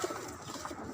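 Red and white pigeons coo softly on a rooftop garden, with a short, low, rolling call heard up close against a quiet background.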